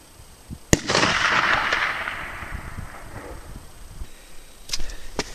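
A single sharp rifle shot cracks close by at an outdoor range as the shooter fires off a vest as a rest, followed by a long fading rumble and faint later clicks.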